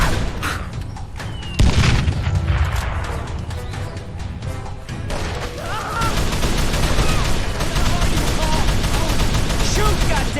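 Gunfire crackles through a shootout in the video game Call of Juarez The Cartel: rapid volleys and sharp shots, with booms and clatter, grow louder and more sustained toward the end.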